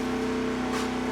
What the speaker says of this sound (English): That noise you hear in the background is a wood chipper